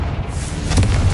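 A Confringo blasting-curse explosion in the video game Hogwarts Legacy: one short, low, booming burst that swells near the end of a brief, close, loud moment.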